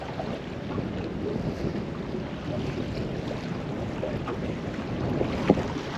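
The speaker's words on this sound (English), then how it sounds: "The breeze has picked up and it's quite chilly." A chilly breeze buffets a fishing boat out at sea, steady wind rushing across the microphone over the low wash of water and hull, continuous and fairly loud with no voices.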